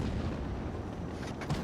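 A heavy tank gun fires a blind shot in WoT Blitz from the FV215b (183) tank destroyer. A deep, loud boom rumbles continuously under a dense low roar, with a slight burst near the end.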